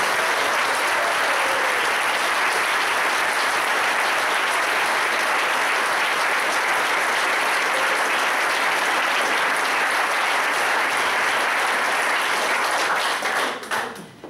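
A large crowd at a Huddersfield Town Q&A at PPG Canalside gives new manager Chris Powell a loud, sustained round of applause, dense continuous clapping that holds steady before tapering off at the very end.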